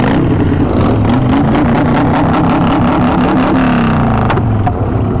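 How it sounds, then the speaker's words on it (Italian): Loud Harley-Davidson motorcycle engines start, roar and rev close by, pitch rising and falling in bursts as several motors run together. "Cominciano ad accendersi i primi motori, i primi sound."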